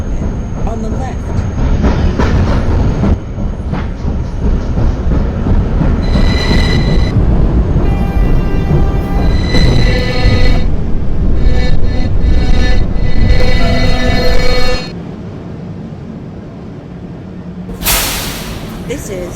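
An F local subway train runs on its rails with a loud, continuous rumble and clatter, bright wheel squeals rising through the middle, then drops to a quieter hum before a final sharp burst; announcements play over it.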